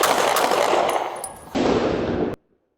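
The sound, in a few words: gunfire in police body cam video of a shootout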